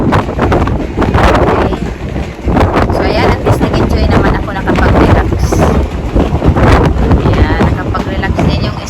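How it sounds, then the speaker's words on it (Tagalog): Loud, gusty wind buffeting the microphone in a constant roaring rumble, with a voice partly buried beneath it. "masyado lang po talagang mahangin"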